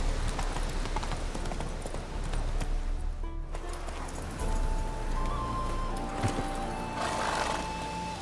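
Hooves of the horse Roach gallop in a rapid, continuous clip-clop in The Witcher 3: Wild Hunt, under a game soundscape with a whinny and a rising tone near the end.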